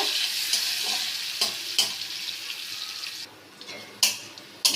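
Cashews and raisins fry in a pan with bay leaf for basanti pulao, giving a steady sizzle broken by sharp scraping stirs, close and fairly loud.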